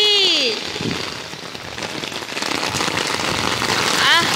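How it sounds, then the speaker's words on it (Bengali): Heavy rain pours outside, a dense, loud hiss that runs through the whole clip with sharp chirping tones at the start and end and voices heard faintly. "বাইরে হচ্ছে জোর বৃষ্টি।"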